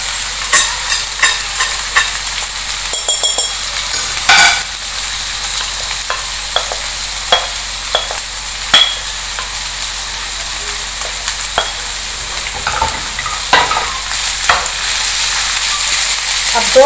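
Fish pieces frying with onions in a hot pan for a fish katakat dish, a loud steady sizzle over the whole stretch, broken by repeated clicks and scrapes of a spatula stirring, with no talk.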